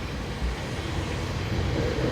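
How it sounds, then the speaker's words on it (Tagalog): A train passes in Karuizawa, Japan, a steady broadband rumble and rushing noise holding at moderate loudness through the whole brief moment. "Look, this is train."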